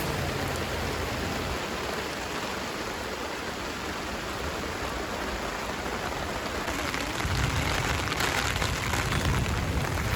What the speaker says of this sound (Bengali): এত পরিমাণে বৃষ্টি হচ্ছে সেটা তো দেখতেই পাচ্ছেন আপনি